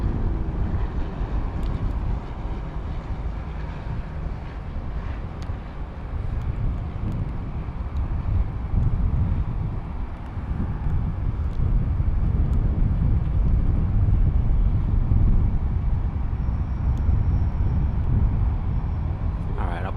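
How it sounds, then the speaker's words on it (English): A Cape Air airplane rolls along the runway at Luis Muñoz Marín International Airport in San Juan, a low, steady engine rumble that swells gradually over twenty seconds under wind noise on the microphone. "we got Cape Air coming on the runway"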